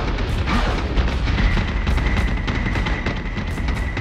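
Torpedo hits in a space combat video game, a dense, continuous barrage of loud booming blasts and bursts layered over a steady rumbling roar with no talking.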